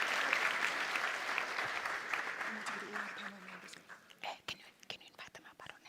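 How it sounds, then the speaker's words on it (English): Audience applause at a high-level sustainability conference opening session, a sustained broadband wash that thins out toward the end into scattered claps, with faint talk underneath. "A round of applause, please, as she takes over."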